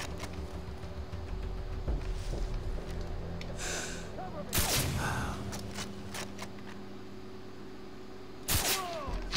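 Gunshots in a Far Cry 3 hardcore mod session, a few heavy booming shots spread apart with quieter rustling and breathing between them.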